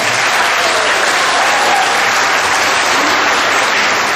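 Audience applause at a middle school awards assembly for sixth grade honor roll students; a loud, dense wash of clapping that holds steady for the whole stretch with no talk over it.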